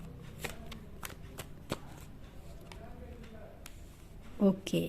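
Tarot cards riffled and shuffled close up during a reading, a run of crisp flicking clicks and snaps, with a brief spoken word near the start and a short voice at the end.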